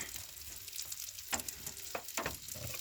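A super thick steak cooks slowly over low heat, giving a soft steady sizzle with occasional louder pops and crackles, close by and quiet, with no talking.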